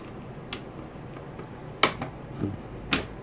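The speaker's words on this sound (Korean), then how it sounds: "똑똑 소리 들리시죠? 락이 풀리는 거예요." Plastic case clips on a Samsung R480 laptop snap open one after another as it is pried apart, several sharp, close clicks spaced irregularly over a quiet background.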